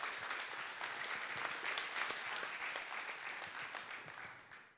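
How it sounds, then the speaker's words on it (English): Audience applause after a talk at a space conference, a dense burst of clapping that holds steady, then thins and fades toward the end, heard alone without speech. "Round of applause."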